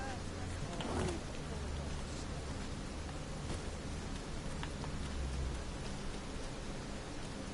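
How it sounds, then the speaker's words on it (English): Steady rain pours in the Dragon's Dogma 2 game world around the town of Batal, a broad even hiss that holds for the whole stretch, with a faint voice murmuring underneath. "I'm honestly surprised that they coded it to rain here in Batal."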